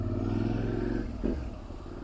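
A motorcycle ridden on a commute to work hums steadily close by, engine note holding even, with a brief rev or clatter midway before settling lower.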